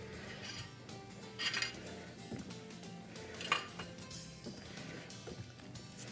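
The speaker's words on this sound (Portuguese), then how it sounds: "Aí você dá uma mexidinha. Vai mexendo." Utensil clinks and scrapes against a mixing bowl while batter for Portuguese Christmas corn bread with lemon zest is stirred, a few sharper taps standing out over a soft, steady background.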